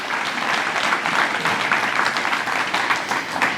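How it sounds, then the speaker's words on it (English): A crowd at the 2023 Prescott Hall of Fame induction ceremony applauds the student council. The clapping is loud, dense and steady throughout. "let's give our student council a round of applause for their help."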